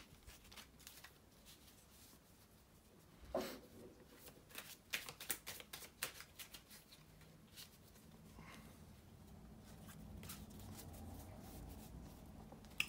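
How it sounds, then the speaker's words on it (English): Tarot cards being shuffled by hand, a run of crisp riffling and flicking bursts in the middle with softer handling before and after, close up and alone with no talk. "here to shuffle the tarot cards or do the shuffling"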